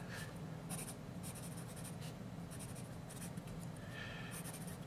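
A Uni Mark Sheet HB pencil scratches steadily across paper, close up and continuous, with bursts of brighter stroke noise and no speech.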